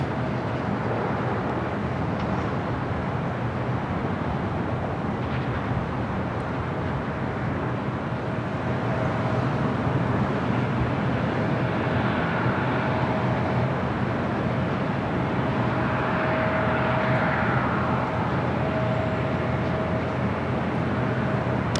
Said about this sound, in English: Of course, that will be a south side takeoff.